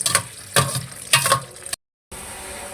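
Ghee sizzles in a pan while chicken macaroni is cooked, with rhythmic scraping stir strokes over a close, steady frying hiss. After a brief gap, the sizzle continues alone.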